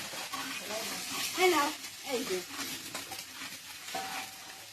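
A spice paste of ginger paste, chili paste and salt fries in a pan with a soft sizzle and scraping stirs. Talking runs over it throughout.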